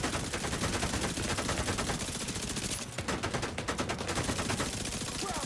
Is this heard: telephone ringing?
no